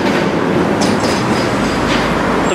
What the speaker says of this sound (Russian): трамвайная колея такая узкая, узкоколейный трамвай